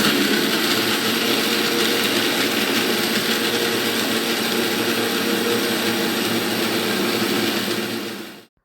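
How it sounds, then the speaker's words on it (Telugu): A new electric mixer grinder grinds chutney in a home kitchen, a loud, steady whirring roar that runs without a break before cutting off abruptly at the end. "కొత్త మిక్సీ వచ్చిన కానించి ఏవైనా త్వరగా మెదిగిపోతున్నాయి"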